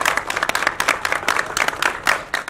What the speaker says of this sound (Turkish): Antalya, Muğla, Burdur ve Isparta'da da saat 21'de evlerin balkonlarından alkış sesleri yükseldi